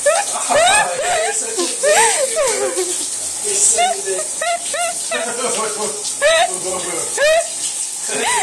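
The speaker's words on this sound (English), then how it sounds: "He's in the shower." Shower water runs with a steady hiss throughout, mostly buried under continuous nearby talking and voices.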